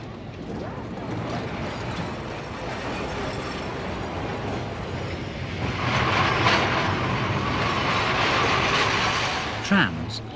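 A preserved tram runs at the Crich Tramway Museum, a steady rolling rumble with rhythmic wheel clatter that grows louder midway, ending with a brief sharp squeal and clank.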